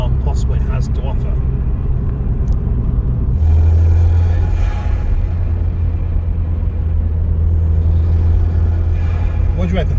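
An MG ZS N-series turbo car accelerates hard, its engine rising into a loud, deep rumble heard from inside the cabin, with voices over the noise.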